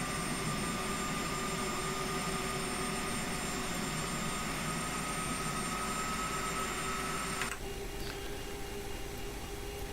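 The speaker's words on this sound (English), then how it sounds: "Both engines started, now we can continue with the checklist" Twin jet engines of a Boeing 737 spooling up in a flight simulator, a steady loud whine and roar with high tonal hum, shifting abruptly near the end.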